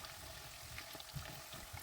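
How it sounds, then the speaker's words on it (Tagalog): Chicken pieces for orange chicken fry in oil over medium heat, a steady close sizzle with soft crackles and occasional pops. "I-fry ito sa katamtamang apoy ng 7 minutes o hanggang maging light brown."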